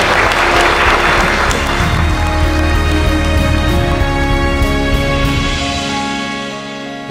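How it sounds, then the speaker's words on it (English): Wedding guests applaud just after a couple is proclaimed husband and wife, loud sustained clapping from many hands over a bed of steady music, fading slightly toward the end. "And that deserves a round of applause."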